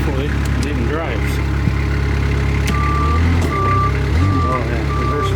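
A Kubota wheel loader with hydrostatic drive trouble reverses after a relief valve swap, its engine droning loud and close while a reversing alarm beeps repeatedly in a steady pattern.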